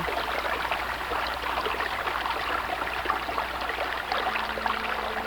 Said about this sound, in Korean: 개울을 만나는데 개울물 소리가 어찌나 청량하게 들리는지